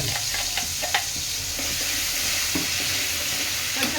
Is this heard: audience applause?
no